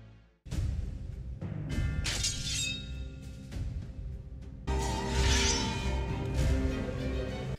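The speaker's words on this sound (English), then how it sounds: "The sound this weapon makes due to its friction on the stone floor is interesting." Bladed weapon dragged across a stone floor in Final Fantasy XIV, a harsh scraping, grinding rasp in several loud bursts with sharp metallic crashes, heard alone.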